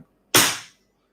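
A cocked pellet gun fired without pellets gives a single sharp bang, loud and close, with a brief hissing decay lasting well under half a second, then silence.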